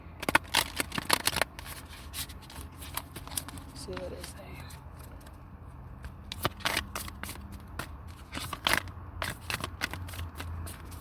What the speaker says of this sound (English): Shuffle, get one card.